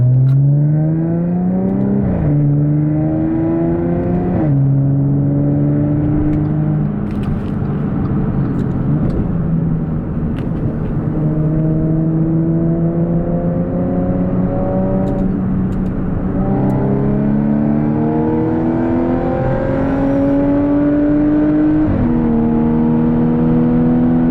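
An Audi S4 engine is heard from the cabin with windows closed while driving toward and onto a highway, droning steadily with rising revs and several clear gear shifts, loud and continuous.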